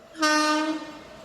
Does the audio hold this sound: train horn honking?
yes